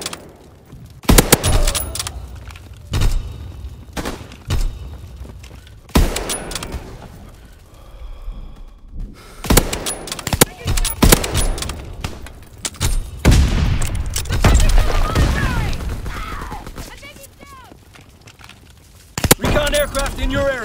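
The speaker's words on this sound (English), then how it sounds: "Taking heavy fire!" Heavy gunfire from Call of Duty: WWII, with rapid bursts of shots and booming impacts spread across a battle, loud and dense. Game voice callouts can be heard between the volleys.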